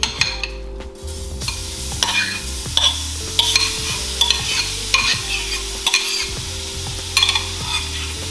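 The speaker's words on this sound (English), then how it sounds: "And you're gonna fry up this mushroom mixture" A mushroom mixture for beef Wellington fries in a pan, giving a steady close sizzle broken by repeated scraping stirs of a utensil against the pan.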